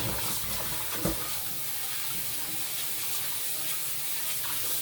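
Meat is washed under a running kitchen tap, with a steady close rush of water and a faint clunk near the start, no voices.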